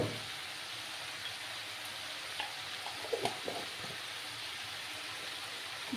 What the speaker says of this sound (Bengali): ভালো করে সবজিটাকে কষিয়ে নিতে হবে।